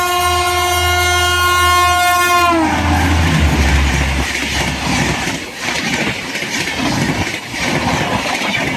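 Chennai Rajdhani express train sounding a long, loud harmonic horn for about two and a half seconds, then rushing past close by with a dense roar of wheels and rattling coaches.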